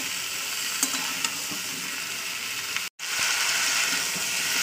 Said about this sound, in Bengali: তো 2 থেকে 3 মিনিট আমি একটু তেলের উপরে ভাজা ভাজা করে নেব।